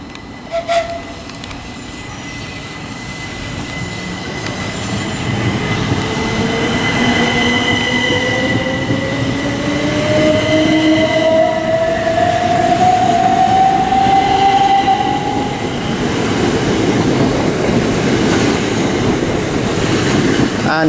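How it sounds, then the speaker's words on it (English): Southeastern electric train departing Sevenoaks station on the main line, a steady electric motor whine rising gradually in pitch over about twenty seconds, with wheel noise building as it pulls away, no talk. "now departing is the 11:43 Southeastern service to Ramsgate from London Charing Cross"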